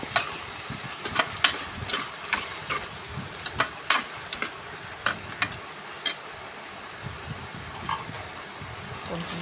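A spoon stirs onions frying in a pan after rock salt is added, giving a steady sizzle with scraping clicks against the pan at an uneven pace, close up.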